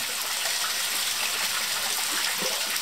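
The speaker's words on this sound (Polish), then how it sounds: "tak przygotowany worek wkładamy jeszcze przed włożeniem do transportu do wody" A prepared bag of fish fry is set into water for stocking, giving a steady rushing, splashing wash of water that is close and fairly loud, with no talking.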